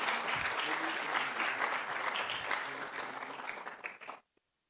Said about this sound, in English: as we give a big applause for our professor to join our folks down there